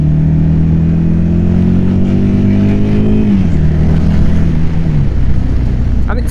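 A motorcycle pulling out to overtake, its engine note holding a steady drone and then rising in pitch as it accelerates hard, loud and close throughout with wind rush, before the tone drops near the end.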